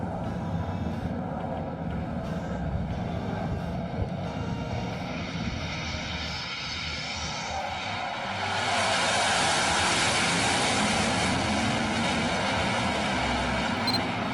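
An aircraft engine roars, starting as a broad steady drone and swelling louder and brighter about two thirds through, then holding at that level to the end.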